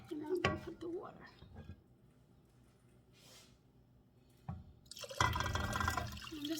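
Water poured into a pot of chicken and rice soup seasoned with poultry seasoning: a few soft knocks and a brief splash early on, then a loud, steady rushing pour that starts near the end and keeps going.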